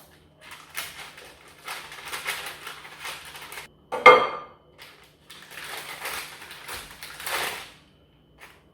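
Homemade butter being cut with a knife, heard as soft scraping and tapping strokes against a board or dish in short bursts, with one sharper knock midway, close and fairly quiet.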